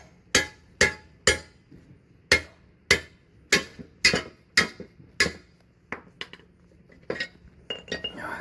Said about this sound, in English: I just need to punch it out now.